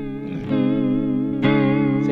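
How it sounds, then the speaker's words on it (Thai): Guitar played through a Valeton Coral Mod pedal set to a wobbling, spring-reverb-like modulation, with two sustained chords ringing loud and close, the second struck sharply partway through. "แบบเหมือนสปริงรีเวิร์บสั่นออกมา"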